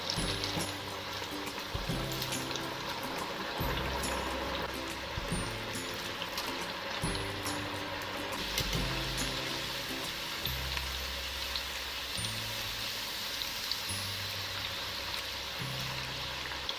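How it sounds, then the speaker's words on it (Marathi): French fries deep frying in very hot oil on a high gas flame, a steady close sizzle and bubbling that holds throughout. "गॅसची फ्लेम पूर्ण हायच ठेवायची आहे आणि 1 मिनिटासाठी मोजून 1 मिनिटासाठी ते फ्राय करून घ्यायचे आहे"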